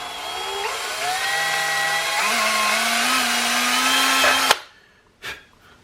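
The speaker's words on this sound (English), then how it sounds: "We're going to go ahead and drill them all." Power drill boring holes through metal leather stamps for an arbor press, a steady loud whine that climbs slightly in pitch over about four and a half seconds, then cuts off abruptly, followed by a brief clunk.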